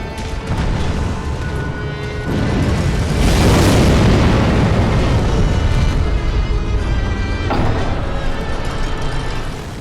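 A series of loud, booming fire bomb explosions from a boss in Sekiro rolls in close succession, with a big blast swelling in the middle and crackling debris trailing off.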